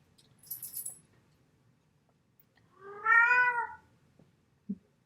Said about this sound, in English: There's my cat again. She likes to say hello.